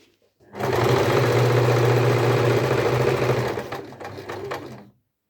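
A sewing machine runs in a loud, continuous burst while stitching a wallet, steady for a few seconds and then slowing and stopping, heard close up with no speech.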